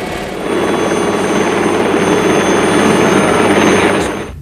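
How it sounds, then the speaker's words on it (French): A NOTAR helicopter, which uses a jet thruster in place of a tail rotor, gives a steady broad turbine roar that rises in the first half second, holds loud and even, then fades near the end, with no talk. "Voici le Notard, un hélicoptère dont le couple est compensé par un déviateur de jet et non par un rotor de queue."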